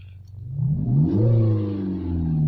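A 2020 Peugeot 3008 SUV engine revs up in sport mode, its pitch climbing into a loud, steady sporty growl that holds and hums on close by.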